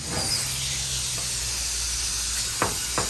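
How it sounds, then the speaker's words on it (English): Compressed air leaks from an air chuck on a tire inflated to 100 psi, a steady, loud broadband hiss throughout with a couple of short sharp bursts near the end. "Okay, so we got some air leaks."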